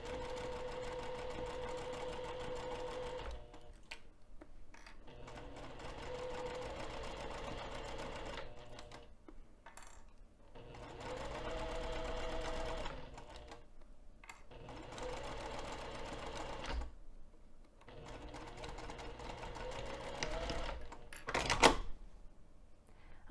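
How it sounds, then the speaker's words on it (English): A sewing machine stitches pocket mesh at a 3 millimeter stitch length, running in bursts of steady whirring separated by short pauses, fairly quiet and with no voices. "make sure you're stretching as you sew"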